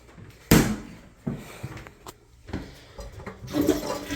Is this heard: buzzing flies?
no